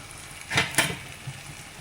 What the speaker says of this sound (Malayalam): ചീനച്ചട്ടി ചൂടായി അതിലേക്ക് കുറച്ച് വെളിച്ചെണ്ണ ഒഴിച്ച് കൊടുക്കുക അതിലേക്ക് ചതച്ച് വെച്ചിരിക്കുന്ന ഇഞ്ചി വെളുത്തുള്ളി കറിവേപ്പില പച്ചമുളക് ഇട്ട് കൊടുക്കുക